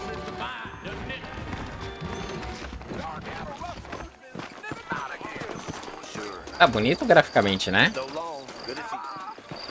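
Horses' hooves clip-clop in the Western video game Red Dead Redemption, a steady, moderately loud trotting rhythm under ongoing conversation and game sounds.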